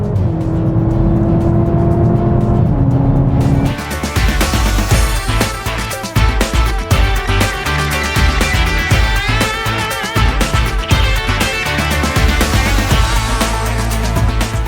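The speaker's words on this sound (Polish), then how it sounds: "układu wydechowego wydobywa się oczywiście przyjemny pomruk" A Seat Leon Cupra engine idles low, then roars up to a loud, continuous rumbling exhaust note as the car accelerates hard on a track and keeps pulling at high revs.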